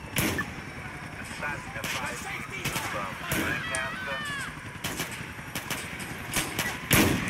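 Gunfire from a firearm in GTA IV played in VR: several sharp, loud shots spread across the stretch, mixed with game noise and a voice talking throughout.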